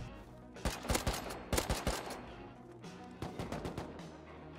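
Bursts of rapid gunfire from the survival video game Rust, with several loud volleys and single sharp shots spread across the clip, close and punchy over a steady background.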